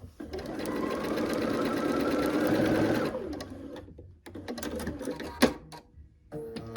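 A sewing machine runs steadily for about three seconds as it stitches a quilt seam, then stops. Softer handling clicks and rustles of the fabric follow, and a voice speaks quietly in the background.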